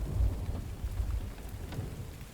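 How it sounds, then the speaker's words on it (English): Rain falls in the survival game The Infected as a soft, steady patter with a low rumbling undertone, fairly quiet and continuous with no speech. "Yeah, definitely raining now, guys,"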